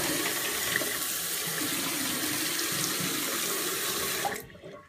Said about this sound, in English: Rinse out the bottle.